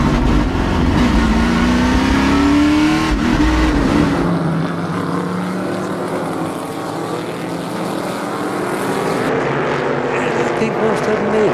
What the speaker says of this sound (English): We've got a couple cars battling for the lead already.